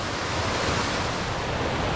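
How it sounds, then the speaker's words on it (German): A mountain stream in the Carpathian wilderness rushes with a steady, dense wash of water noise, close and loud, with no break and no voices. "Einmal ein Bach zum Überqueren."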